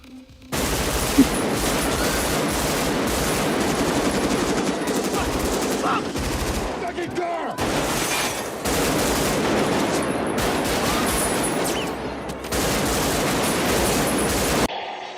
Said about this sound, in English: Heat to me has the best sounding gunfight. The rifles sound like actual rifles.